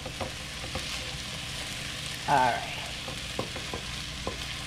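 Food glazed with hoisin sauce sizzles steadily in a pan, a continuous frying hiss with soft stirring clicks and a brief louder burst midway, close and alone with no voices.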